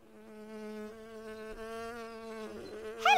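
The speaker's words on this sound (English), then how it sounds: "Hello, Buzzy Bee." A cartoon bee buzzes in a quiet countryside scene, a steady, tonal insect drone that wavers slightly in pitch and holds for a few seconds before a brief sharp sound at the end. There is no speech.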